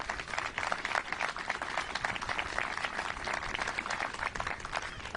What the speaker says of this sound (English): Just give her a round of applause.